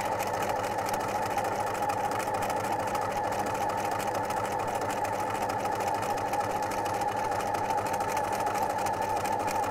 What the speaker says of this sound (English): We go forward all the way to the end. And we are happily sewing over our tacking stitch.